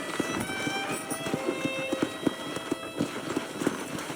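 Horse hooves clip-clop at a steady trot in the video game Red Dead Redemption, moderately close, over a soft ambient background.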